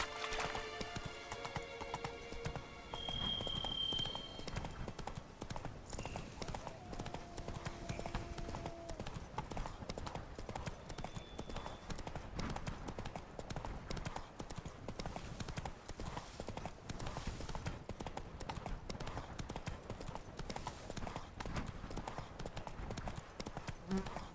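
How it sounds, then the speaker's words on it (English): Steady clip-clop of a horse's hooves in The Witcher 3, a brisk continuous gallop rhythm running throughout at moderate level, with a brief whinny near the start and occasional game sounds mixed in. "Not so fast, Roach"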